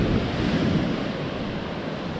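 Sea waves wash and break along the shore in a broad, steady roar, with gusts of wind buffeting the microphone and no voices.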